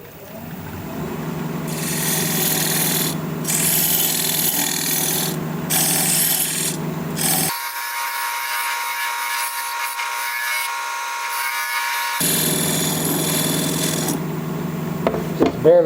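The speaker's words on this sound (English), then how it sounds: "I can use this diamond point tool to square up the sides of the tenon." A diamond point tool squares up the sides of a tenon on a wood lathe, giving a loud, close, steady rasping scrape with a brief change in tone midway before the cutting resumes.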